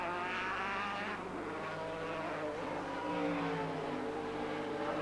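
An IMSA GTP prototype from 1991 roars along the back straight at Lime Rock Park, its engine note steady and loud throughout, with the harmonics of a high-revving motor rising and shifting as it runs at speed, no voices.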